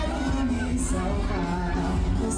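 Children and families celebrate at a carnival street bloco in Palmas, Tocantins, a steady crowd din of cheers and shouts with scattered voices throughout.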